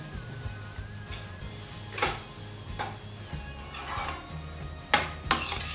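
Soaked basmati rice with fenugreek leaves being fried and stirred in a pan, with soft scrapes and occasional sharp metallic clinks and taps of a spoon against the pan over a low steady hum.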